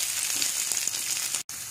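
Vegetables, including capsicum, sizzle and crackle steadily in a hot pan, close and fairly loud, with a brief break in the sound near the end.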